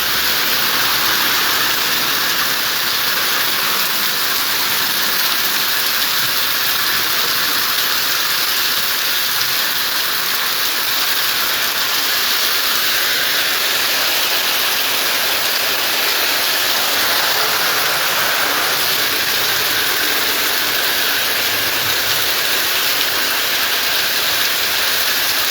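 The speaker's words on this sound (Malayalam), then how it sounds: "വാഹനങ്ങൾ വേഗത്തിൽ കടന്നു പോകാൻ കഴിയാത്ത തരത്തിൽ അതിശക്തമാണ് മഴ" Torrential rain lashes the MC road between Valakam and Kottarakkara, a loud unbroken roar of downpour that holds steady for a long stretch, with no one talking.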